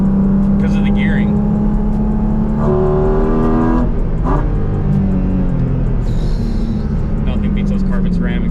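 Porsche 718 Cayman GT4 RS Weissach engine revving and pulling through the gears in a steady, loud in-car drone with rising pitch sweeps, while people talk over it throughout.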